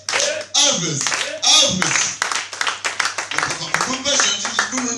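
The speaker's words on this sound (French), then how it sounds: "Applaudissez." Clapping at a Saturday night prayer vigil, loud and close, with rhythmic claps and voices talking and calling out over it throughout.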